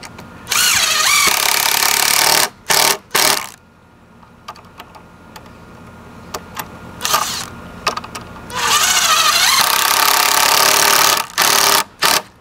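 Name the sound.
Makita power tool running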